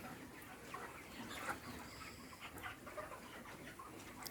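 Thirty-day-old broiler chickens in an open raised coop, soft scattered clucks and chirps over a faint steady background hum, fairly quiet and distant.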